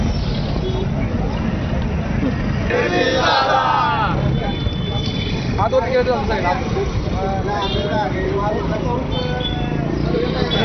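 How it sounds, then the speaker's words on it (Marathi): BJP party workers celebrate Dhairyashil Kadam's Sangli Satara MLC election win, throwing gulal and loudly chanting slogans as a dense, continuous crowd roar with shouted voices rising over the noise. "भाजपच्या कार्यकर्त्यांकडून गुलाल उधळत अशा रीतीने जोरदार घोषणाबाजी करत जल्लोष केला जातोय"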